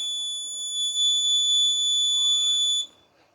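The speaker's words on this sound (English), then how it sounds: "Okay, alarm on." An LPG gas sensor sets off an electronic alarm buzzer, a loud, steady high-pitched tone that sounds continuously for nearly three seconds and then cuts off, leaving faint background noise.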